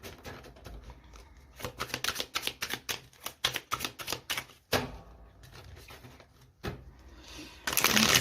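Tarot cards being shuffled and cut, a run of quick dry riffling flicks and taps close by, with brief pauses and a louder rustle at the end; no speech.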